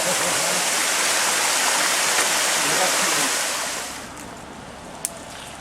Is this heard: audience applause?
no